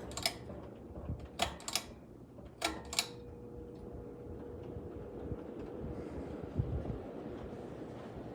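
An electric fan switched to high speed: a few sharp clicks at first, then a steady whirring hum with a faint tonal drone that carries on alone.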